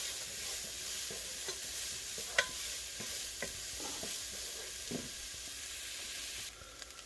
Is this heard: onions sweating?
yes